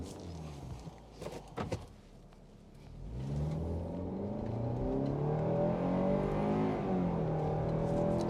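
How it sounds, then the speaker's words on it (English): A 2023 Kia Sportage X-Line pulls away hard in a launch, its engine rising into a loud, steady acceleration roar with climbing tones after a brief quiet moment and a few thumps. "we're going to go for a bit of a launch and then do an emergency style type brake"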